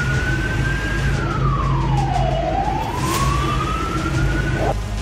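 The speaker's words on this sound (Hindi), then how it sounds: "राष्ट्रपति भवन के बाहर सड़कों पर सायरन के साथ टैंक घूम रहे थे" A wailing siren from tanks on city streets in Bolivia sweeps down and back up in pitch, loud and steady over a constant rumble of street traffic.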